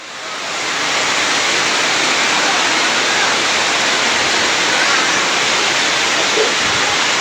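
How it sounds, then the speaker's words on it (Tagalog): Rainwater rushing into a room during a typhoon, a loud, steady broadband roar like pouring water that swells in over the first second and then holds constant without talk. "Pumapasok dito yung tubig."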